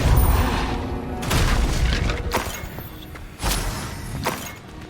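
Spells fire in the Hogwarts Legacy video game: dense, loud magical blasts, booms and shattering impacts follow one another without pause.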